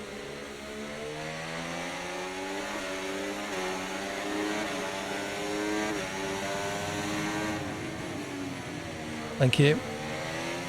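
A turbocharged Alpine race car engine roars steadily in a video game, its pitch rising and falling through gear changes, with a short sharp burst near the end.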